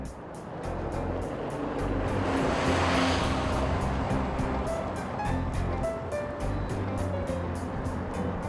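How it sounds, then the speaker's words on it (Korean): A taxi in Pyeongchang setting off for its first fare of the day, its engine a steady, close drone with road rumble throughout, no distinct start-up and no talk. "힘차게 시동을 걸고 오늘의 첫 손님을 만나러 출발합니다."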